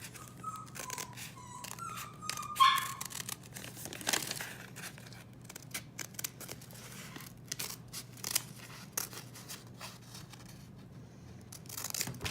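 Scissors snip and slice through paper while a paper F-16 model is cut out, giving repeated close crisp cuts with crinkling and rustling handling noises between them.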